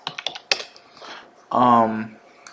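Computer keyboard typing at close range, a quick run of sharp keystrokes followed by a short burst of fuller noise and a few more clicks near the end.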